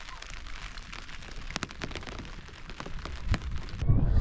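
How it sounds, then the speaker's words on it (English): Rain beginning to fall on a freshly pitched camping tent, a steady patter of drops with scattered sharper taps on the fabric, fairly close and moderate in level, building slightly toward the end. "It's starting to rain."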